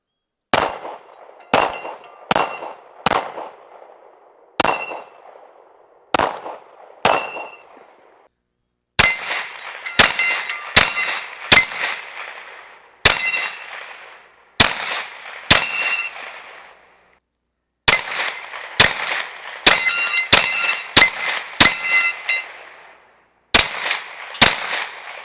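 A Derya Arms DY9Z pistol fires a long string of shots at a steel Texas Star target. Each sharp report is followed by a bright metallic clang, in irregular bursts with short pauses, loud and close.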